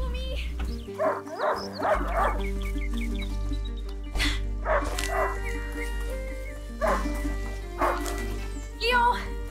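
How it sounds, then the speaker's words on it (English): A hunting dog in the video game A Plague Tale: Innocence gives several short barks and yips, with a few whimpers, fairly close by. It sits over a steady bed of game music and ambience, with no talk. "Leo, a hunting dog is not supposed to lose its hunter."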